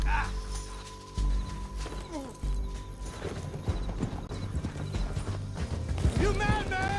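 Hooves clop in a quick rhythm and a horse whinnies in Red Dead Redemption 2, mixed with music and voices talking over the action.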